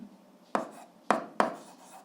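Chalk or marker strokes on a board during an eighth-grade algebra lesson: three sharp, close tapping scrapes in an uneven rhythm, with no talk over them.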